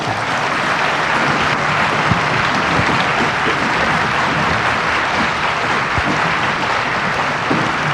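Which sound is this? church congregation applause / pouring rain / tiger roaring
church congregation applause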